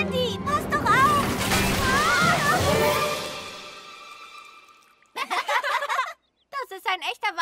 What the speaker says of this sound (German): Vorsicht, der Wasserspeicher kippt um